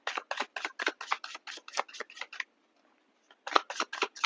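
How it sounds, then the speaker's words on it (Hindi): Tarot cards being handled and drawn from a deck, a quick series of crisp papery snaps and flicks, close and clear, pausing briefly before a few more. "सबके लिए एक एक कार्ड निकालेंगे।"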